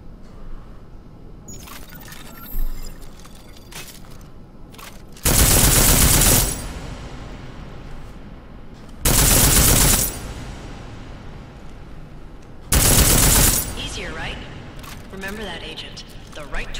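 Armor-piercing rounds fired in Deus Ex: Mankind Divided, three loud sustained bursts of rapid gunfire about a second long, separated by quieter gaps of mechanical clicks and faint talk.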